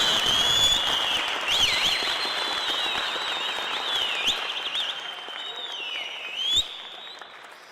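Audience applause fills a ceremony hall as a village council head is called up to receive his appointment, steady dense clapping from a crowd that carries on for several seconds before gradually thinning out.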